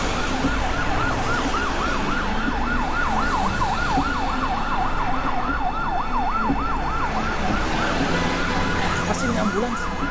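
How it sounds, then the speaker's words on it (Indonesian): An ambulance siren wails loud and close in a continuous rising-and-falling cycle on a road, heard over steady traffic rumble for the whole stretch, with no one speaking. "Pasti ini ambulans, kita kan juga buru-buru."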